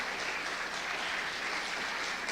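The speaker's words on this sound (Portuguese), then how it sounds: "pode aplaudir a Jesus" A church congregation applauds Jesus, a steady wash of clapping from many hands that fills the whole stretch at moderate loudness, with no voices over it.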